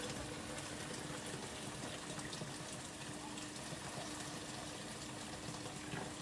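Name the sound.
pouring boiled water into curry pot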